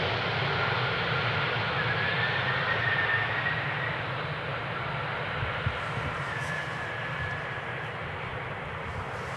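Airliner landing on runway 18R at Amsterdam Schiphol, heard as a steady broadband engine roar and rush that holds fairly loud throughout, easing slightly toward the end, with no voices.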